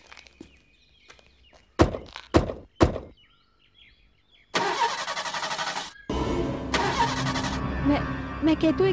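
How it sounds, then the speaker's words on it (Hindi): A car's engine cranks repeatedly but fails to start, the starter whirring in two long loud bursts after a few sharp door thunks, with people talking over it in a dramatic indoor scene. "मैं जानती हूँ ये गाड़ी स्टार्ट नहीं होगी।"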